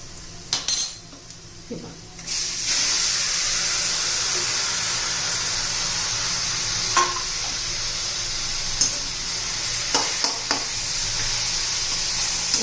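Amaranth leaves fry in a pan for a fasting-day dish: a steady loud sizzle holds throughout, with a few sharp clinks and scrapes of a utensil stirring and striking the pan.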